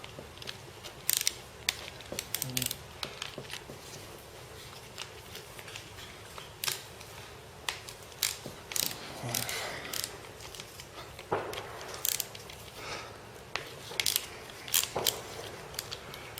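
Bolts being undone on a dirty swing axle gearbox, repeated close metallic ratcheting clicks in short bursts with pauses between, no talking.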